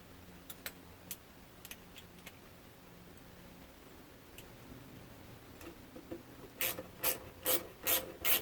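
A small ratchet loosens hose clamps on fuel lines during a fuel injector replacement on a Bitter SC with Bosch L-Jetronic. Sparse clicks come first, then a quick burst of loud, close ratcheting near the end.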